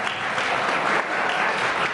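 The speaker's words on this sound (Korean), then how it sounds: "박수 한 번 부탁드립니다 여러분" Wedding guests applaud as the mothers of the couple prepare to enter, a brief, steady burst of clapping from a roomful of people at an even level.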